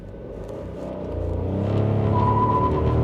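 2025 Skoda Kylaq manual pulling away hard with wheel spin: close engine note swelling louder and rising in pitch over a few seconds, a thin whine appearing toward the end, no talk.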